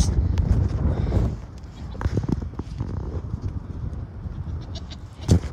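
Goats on a farm, a close bleat rising at the start and another sharp cry at the very end, with shuffling steps and rustling between and people talking nearby.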